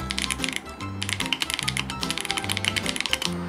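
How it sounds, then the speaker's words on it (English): Rapid clattery keystrokes on a keyboard built from Lego, close and crisp, in uneven bursts with short pauses between them. "this is what the keyboard sounds like"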